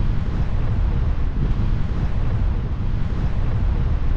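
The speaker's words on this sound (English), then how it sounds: "the wind is just shooting through this little canyon" Strong wind gusting through a small canyon at high elevation, a loud, constant roar buffeting the microphone throughout, with no voices over it.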